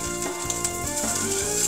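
Shrimp sizzling and sautéing in a hot pan, a steady close crackle of frying with stirring clatter throughout.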